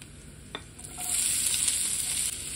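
About 150 grams of finely chopped onion fry in oil for paneer momos, a steady close sizzle that swells as the onion is stirred, with a few light scrapes and clicks.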